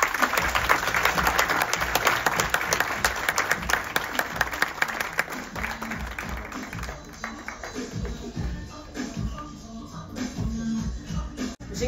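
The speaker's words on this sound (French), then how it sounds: "Je vous demande s'il vous plaît un tonnerre d'applaudissements pour Aurélie Alama" Audience applause for Aurélie Alama, a weaver and author, at a live Black Connexion event: steady dense clapping at first, thinning and fading through the middle, with low rumbling and crowd shuffling underneath.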